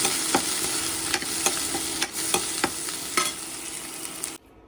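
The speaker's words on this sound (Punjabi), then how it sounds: "ਲੋ ਜੀ ਮਸਾਲਾ ਲਾ ਭੁੰਨ ਦਿੱਤਾ ਆਪਾਂ ਨੇ" A spice paste of garlic and onion sizzles in a pan while a spoon scrapes and taps in irregular strokes, close and steady, before cutting off abruptly near the end.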